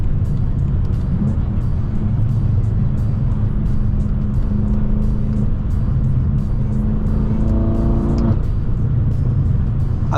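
A tuned 800HP BMW M6 engine drones loudly and steadily at close range on city streets, rising briefly in pitch as it revs; faint popping from the exhaust isn't distinct.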